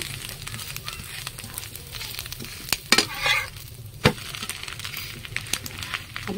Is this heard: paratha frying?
yes